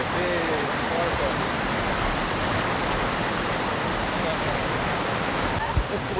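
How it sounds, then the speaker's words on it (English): Dense, steady roar of a big waterfall at Shin Brook Falls, a continuous broadband rush heard from nearby, fairly soft, with faint voices underneath. "That is a big waterfall."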